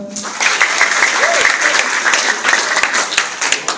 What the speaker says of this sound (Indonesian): Tepuk tangan untuk Makassar.